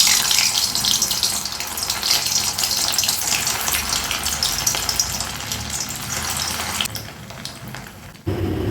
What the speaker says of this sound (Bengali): ওদিকে তেল গরম হতে হতে আমার বড়াগুলো বানানো হয়ে গেছে। এবার আমি ভাজবো।